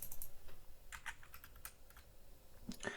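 Soft, fast keystrokes on a computer keyboard patter faintly and unevenly with brief pauses, close and quiet, with no voices.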